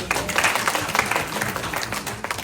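Audience applause at a Kerala Samajam of Greater New York award ceremony, a dense burst of many hands clapping at close range for a couple of seconds.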